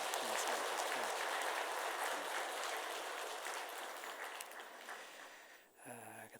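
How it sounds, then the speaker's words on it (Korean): A church congregation claps in encouragement for members recently promoted to major, a dense, even wash of applause that slowly fades over several seconds before tapering off near the end. "우리 격려의 박수 한번 드리도록 하겠습니다"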